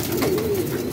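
A pet pigeon gives a single soft, throaty coo up close, one short sliding call over a steady background hum.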